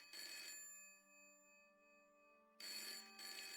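A telephone ringing in the video game Broken Sword: two loud electronic ring bursts separated by a quiet gap, the second burst briefly interrupted, heard alone without talk.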